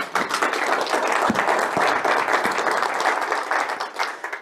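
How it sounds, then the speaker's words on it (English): An audience at a lecture claps loudly and steadily, a dense, close wash of many hands that holds for several seconds before tapering off. "Please clap for him."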